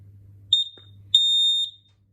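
An interlinked smoke alarm sounding while being connected: a short sharp high-pitched beep, then a longer piercing tone, close and loud in an otherwise quiet room.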